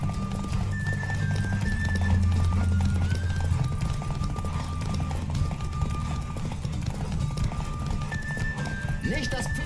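A horse gallops in a race in the video game Witcher 3 Wild Hunt, its rapid clip-clop hoofbeats running steadily under game music and ambience, with a brief whinny.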